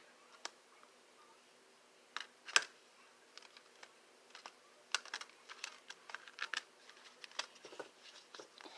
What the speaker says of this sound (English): You can shuffle them in all different manners.